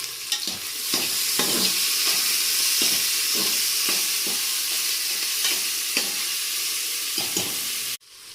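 Mutton masala with onion and tomato is stirred in a hot pan, the spoon scraping in regular strokes over a constant loud sizzle that cuts off abruptly near the end.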